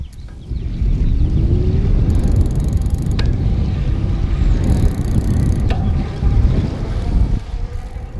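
A Juiced Bikes OceanCurrent e-bike is ridden with pedal assist at level 2 or 3, giving a steady, loud rush of wind and rolling road rumble that lasts throughout with no voices.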